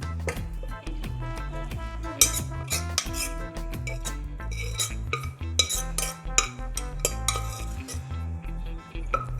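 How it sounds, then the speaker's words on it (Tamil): Cooked lentils and raw mango chunks are stirred in a pot, bringing frequent metallic clinks and scrapes of a spoon against the vessel in an irregular, close rhythm, no voices. "நல்லா மிக்ஸ் பண்ணி விடுங்க."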